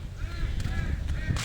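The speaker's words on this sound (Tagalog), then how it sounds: "Gansa guys ang tawag dyan." Young geese on a farm in Morong, Bataan give a few short, nasal honking calls close by, repeated irregularly over steady low background rumble.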